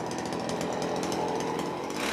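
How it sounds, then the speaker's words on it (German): A saw plunge-cutting deep into a wooden block for a fountain trough, giving a steady, loud, dense buzzing roar with no pauses. "Und dann wird eingestochen. So tief, wie das Sägeblatt lang ist."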